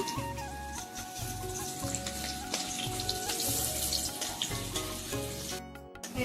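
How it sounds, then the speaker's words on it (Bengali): Sizzling frying in a pan while making Bengali karkol pur, a steady crackle of hot oil running through the whole stretch alongside background music, with no talking. "এগুলি একটু লাল করে ভেজে নেব।"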